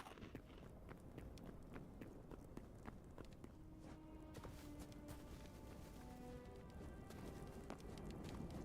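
Skeleton horse hooves in the video game Hytale, a steady run of clip-clop footsteps at a quick rhythm, close and prominent over game ambience, with occasional tonal game sounds layered in.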